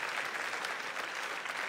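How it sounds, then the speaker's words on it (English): An audience at a fundraiser event breaks into a short burst of dense, steady clapping filling the room. "Give a round of applause for that."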